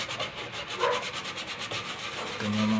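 A cloth soaked in thinner is rubbed over an acrylic-faced P3.9 LED panel to clean off flux, giving soft, repeated scrubbing strokes close by with no talk.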